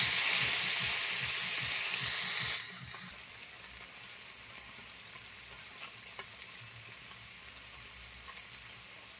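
Fish fry in hot oil in a pan with a loud, bright sizzle for the first few seconds, then the crackle drops to a quieter, steady simmer with faint pops and no talk.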